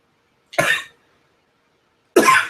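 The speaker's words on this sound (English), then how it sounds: "And I'm now coughing" Two sharp, close coughs separated by about a second of silence.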